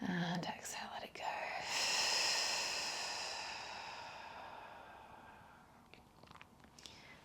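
A deep, breathy exhale during yoga breathing, a long airy rush that swells and slowly fades, with soft breathy sounds before and after it.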